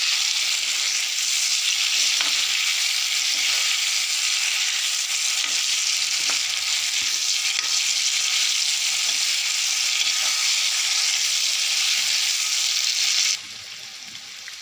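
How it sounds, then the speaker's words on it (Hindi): Mushrooms frying with golden onions in a kadhai give a steady, loud broadband sizzle with occasional soft stirring scrapes, continuous throughout and easing slightly at the very end, with no voices. "इसको थोड़ी देर भूनेंगे"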